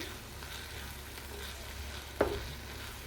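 Ash gourd curry with coriander is stirred in a pan over a faint, low sizzle, with a single sharper scrape or clink from the spoon near the end.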